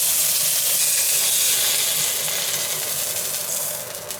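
Pork loin sizzles loudly and steadily in a very hot pan, a bright crackling hiss that eases slightly toward the end.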